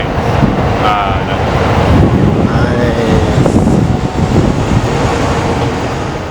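A Tokyo metro train rumbles steadily with loud, broadband rolling noise and faint squeals, heard from on board or close by without speech.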